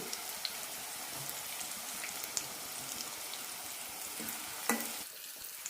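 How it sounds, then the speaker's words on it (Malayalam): Raw banana pieces fry on low flame for a Kerala veg fish curry, giving a steady, close sizzle with occasional light stirring scrapes and a brief clatter near the end; no one speaks. "ലോ ഫ്ലെയിമിൽ രണ്ട് മിനിറ്റ് വറുത്തെടുത്താൽ മതി വാഴയ്ക്ക് പെട്ടെന്ന് തന്നെ വെന്ത് കിട്ടും"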